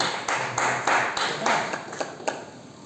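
Seminar audience claps in a short, fading round of applause, a few strong bursts of clapping tapering into scattered claps.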